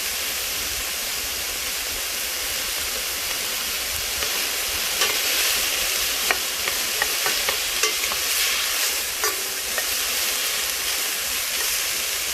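Garlic, onions, carrots and celery sizzle steadily in a soup pot, with a soft continuous frying hiss and a few light stirring scrapes, close and without talk.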